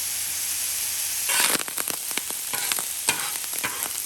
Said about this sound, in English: That rice is popping.